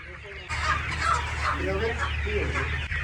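Chicks peep and cheep in a crowded brood at a desi poultry farm, a dense, steady chorus over a low background hum, with faint voices now and then.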